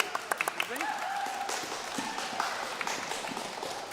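Light applause from a school orchestra concert audience thanking the AV tech crew, scattered claps over a murmur of voices and a bit of cheering.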